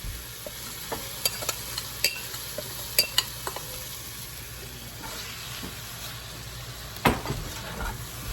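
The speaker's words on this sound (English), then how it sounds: "And then we're just gonna throw in our tomato salad." Tomato salad stirred in a hot pan with garlic, a spoon scraping and clacking against the pan in irregular knocks over a steady sizzle, closing with a louder scrape, no voices.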